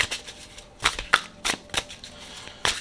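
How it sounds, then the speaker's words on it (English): A tarot card deck being shuffled by hand, a series of sharp riffling bursts and soft card slaps in an uneven rhythm, close and crisp with no talking. "So let's go ahead and shuffle, and see exactly what we get here."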